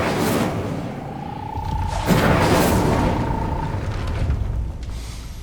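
Incendio fire spell cast in Hogwarts Legacy: a fiery whoosh swells over a steady low rumble, with a thin sustained ringing tone running through the middle and a burst near the two-second mark.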